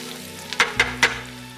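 Fresh chopped garlic for shrimp scampi hits a hot pan, giving a steady low sizzle that breaks into three short, sharp crackling bursts, close and moderately loud, with no talking.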